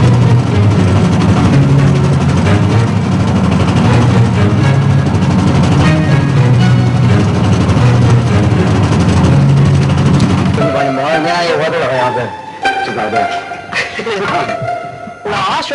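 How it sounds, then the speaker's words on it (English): A tractor engine chugs loudly on an open road, a heavy low rumble for about ten seconds before fading as a voice speaks over it. "Out on the road again, the traveling cinema hitches a ride on a tractor."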